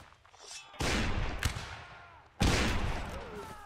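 Two loud musket volleys fired by a regiment in a multiplayer battle game, each a sudden ragged crash of many near-simultaneous shots that rolls away over a second or so.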